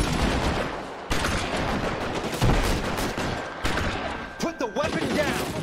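Rapid bursts of automatic gunfire in a shooting video game, loud and dense, with brief pauses between volleys and a faint voice mixed in.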